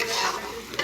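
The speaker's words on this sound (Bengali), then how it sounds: "দিয়ে ভালো করে নাড়াচাড়া করে দিচ্ছি" Spices with chili powder and salt sizzling in a frying pan as they are stirred, a loud close scraping and hiss across the short moment.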